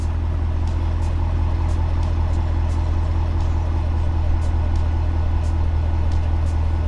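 Engine of a Camaro, likely a Z28, held under full load with foot brake and gas applied, a steady loud drone throughout with voices talking over it.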